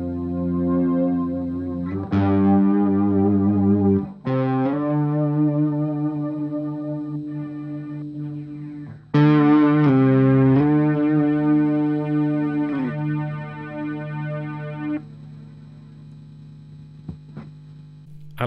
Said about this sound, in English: I split the signal, going into the Boss SY200, which can sound something like this.